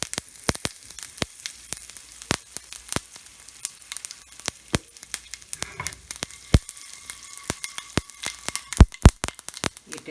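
Mustard seeds, cumin and asafoetida sizzle in hot oil for a tempering, with constant sharp pops and crackles scattered irregularly over a soft frying hiss, close by and with no talk.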